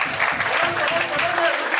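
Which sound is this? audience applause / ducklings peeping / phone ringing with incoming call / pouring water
audience applause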